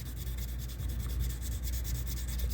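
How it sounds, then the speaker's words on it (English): Sandpaper wrapped on a dowel rod rubs over a firearm's surface in a steady, continuous scratchy hiss, close and even throughout, with no voices. "Kind of turning the sandpaper or the dowel rod from left to right."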